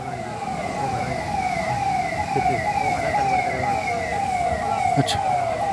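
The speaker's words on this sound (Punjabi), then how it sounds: "ਲਗਾਤਾਰ ਜੋ ਐਂਬੂਲੈਂਸਾਂ ਨੇ, ਜੋ ਫਾਇਰ ਬ੍ਰਿਗੇਡ ਦੀਆਂ ਗੱਡੀਆਂ ਲਗਾਤਾਰ ਸਾਈਟ 'ਤੇ ਪਹੁੰਚ ਰਹੀਆਂ" Wailing ambulance and fire engine sirens sweep up and down in a steady repeating cycle over rumbling traffic noise, fairly loud and continuous throughout, heading to a chemical factory fire.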